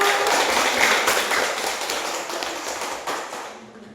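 A class of fifth-grade primary school children claps hands together in a Christian religious education lesson, a dense burst of many small hands that fades toward the end.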